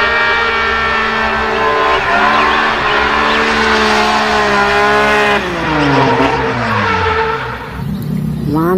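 A toy race car's sound effect plays loudly and continuously, with a revving, rising and falling engine whine and tire-squeal tones that sweep up and down across the whole stretch.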